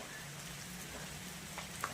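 Steady rain falls over the grounds of a dance training centre in Saraikela, India, a soft continuous patter with a faint distant background.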